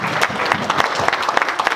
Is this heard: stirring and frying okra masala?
no